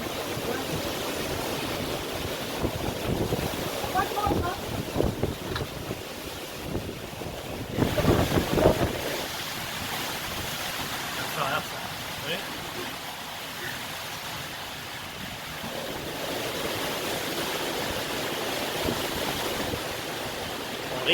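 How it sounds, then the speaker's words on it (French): Hurricane Grace wind at 60 km/h roars and buffets the microphone continuously, with gusts swelling and dropping, and water or surf noise mixed in underneath. "Et ici le vent souffle à 60 km/h."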